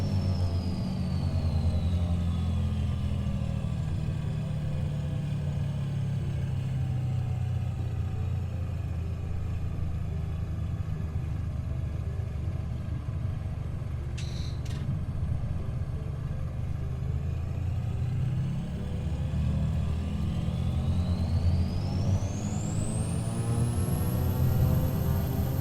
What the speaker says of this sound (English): Listen to these nice engines as they spool up.